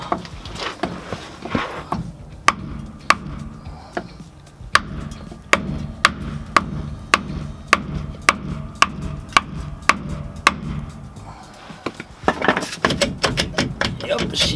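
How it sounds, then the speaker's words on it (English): Metal banging while a Toyota Tacoma driveshaft flange is broken loose: a long run of sharp, evenly spaced strikes, roughly a dozen and a half, ringing close under a low background murmur. "I try to break this flange loose from the drive shaft"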